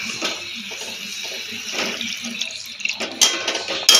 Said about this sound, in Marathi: मिक्सरमधलं ते टमॅटो काढलेलं त्याचंच पाणी टाकणार आहे मी